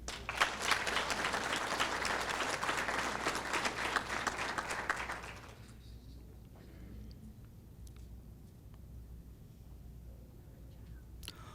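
An audience at a school board meeting breaks into brisk, dense clapping for about five seconds, then it stops abruptly, leaving a quiet room with a few faint scattered sounds.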